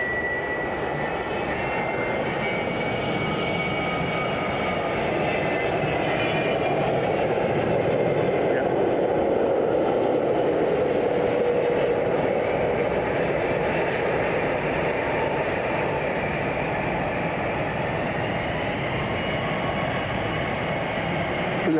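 A jumbo jet on a runway at Miami International Airport, a long, loud, steady jet engine roar that swells gently in the middle and holds for over twenty seconds, heard from a distance across the airfield.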